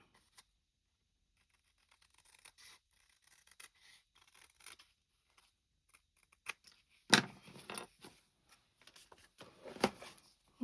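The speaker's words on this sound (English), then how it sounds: "It's because I cut it with my scissors, that's why." Scissors cut paper for a file folder journal, making a few faint, scattered snips and rustles in an otherwise quiet room.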